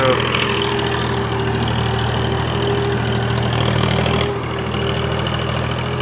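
A tractor engine idles steadily nearby, a continuous low throbbing drone that dips slightly in level partway through, with little else over it.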